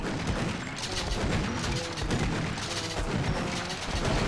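Shotgun fire in Sven Co-op's They Hunger campaign against zombies, a steady run of loud blasts mixed with other gunfire and game noise, fairly continuous over several seconds.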